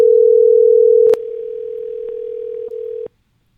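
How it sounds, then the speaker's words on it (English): A steady telephone dial tone hums for a live-stream call-in, loud at first, then dropping in level with a few clicks before cutting off abruptly to silence. "We have one more phone call"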